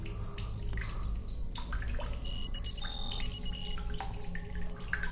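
Steady running water from The Solus Project game, a continuous wash of flow with faint tonal game ambience and beeps layered over it.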